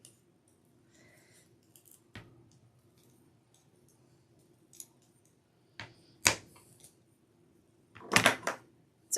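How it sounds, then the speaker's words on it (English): Scissors snipping pipe cleaners lengthwise, several sharp, crisp cuts spaced apart with quiet pauses between them and a small cluster near the end, close by and with no talking. "you can actually put your pipe cleaners in half and cut them down the middle"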